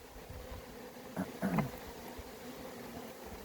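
Honeybees hum at a low, steady level during a hive inspection as pollen-filled frames are handled, with a couple of slightly louder buzzing swells near the middle and no speech.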